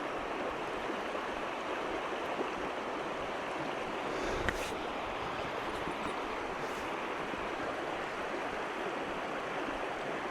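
The River Wye flowing past a fishing spot, a steady rushing, babbling stream that holds an even level throughout, with one brief splash-like burst midway and no talk.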